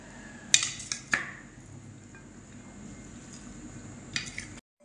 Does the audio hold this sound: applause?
no